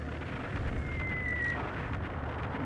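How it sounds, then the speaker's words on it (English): A harpoon cannon fires in the Skies of Arcadia video game, a sustained rumbling blast with a thin rising whistle streaking through the middle, steady and fairly loud with no voices. "Main cannon. I want to get a heal in. Yeah, get a heal in with Fina. Harpoon cannon."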